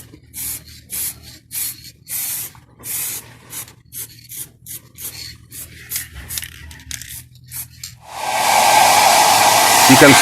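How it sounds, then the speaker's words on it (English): Several short spray-can hisses painting a BMW E34 520i wheel repeat at an uneven pace, then a hairdryer on maximum heat switches on and blows loudly and steadily, close by, to dry the paint. "You can speed up the drying a bit and put the wheel on quicker using the hairdryer."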